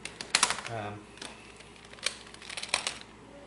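A GhostHand DIY speed cube turned rapidly in a scramble, a close run of light plastic clicks and rattling snaps in quick irregular bursts, with a voice speaking briefly.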